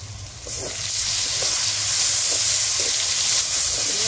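Ginger-garlic paste, ground coriander-cumin paste and sugar hit hot oil for a tomato chicken curry, setting off a steady, loud broadband sizzle that swells after a quiet first half-second and holds to the end.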